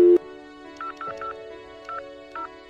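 A phone ringtone plays clearly and alone after a brief louder tone, its short two-note chirps repeating in a steady pattern over a sustained low drone, loud and close.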